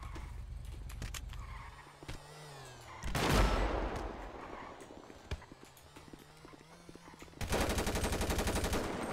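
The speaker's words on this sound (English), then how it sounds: "Shots fired on officers." Gunfire from a roleplay shootout in a video game, sharp shots bursting out loud against a busy background of hoofbeat-like clatter, with a dense volley near the end.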